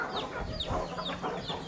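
Repeated short clucking calls from a white Aseel rooster, several bursts in quick succession, fairly close, with no talking.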